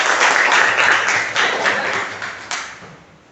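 Classroom applause for a student group after a presentation, a short burst of close, loud clapping from a small crowd that swells once more and then fades out.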